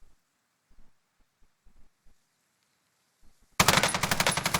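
Machine gun fire in a video game bursts in suddenly after near silence and quiet clicks: a loud, rapid stream of repeated shots that runs to the end.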